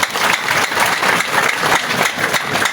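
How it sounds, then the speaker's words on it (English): Audience applause at a political gathering, a dense sustained patter of many hands clapping at once, loud and close with no talk over it. "Please clap for yourselves."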